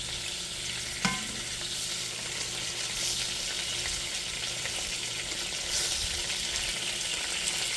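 Hamburger steaks fry in a pan with a continuous crackling sizzle, close and fairly loud, broken once early by a brief utensil clink.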